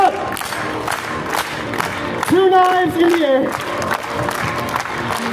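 Street performance crowd at Covent Garden, London, clapping and cheering with whoops over a performer's amplified shouting and a rising tonal effect; lively, loud and close.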